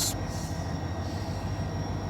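A CSX train crosses the Schuylkill River Bridge in Philadelphia, producing a continuous low rumble with a faint high whine above it, steady and moderately loud, with no voices.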